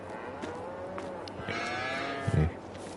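Beef cattle in Farming Simulator 22 give a long drawn-out moo over a steady low farm ambience, followed by a brief thump near the end.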